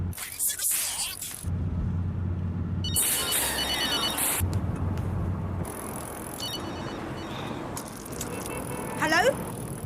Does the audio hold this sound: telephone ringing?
yes